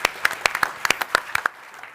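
Audience at a startup pitch event in Austria applauds a founder raising a seed round, sharp separate claps ringing out through the clip before thinning toward the end.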